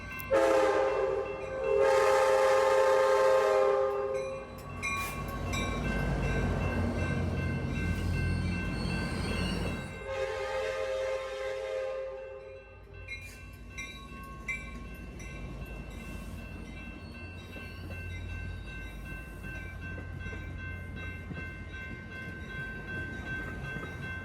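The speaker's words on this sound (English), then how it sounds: "here comes Amtrak 717, another San Joaquin Express train, today with an out-of-the-ordinary consist" An Amtrak San Joaquin passenger train rolls past close by in California, its horn blaring loudly at the start and again briefly, followed by the rumble and rattle of cars going by.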